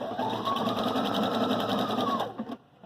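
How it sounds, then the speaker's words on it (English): Viking Sapphire 930 sewing machine stitching in reverse, a loud close steady whirring hum with fast regular needle pulses that stops abruptly near the end. "So now we're sewing the other direction."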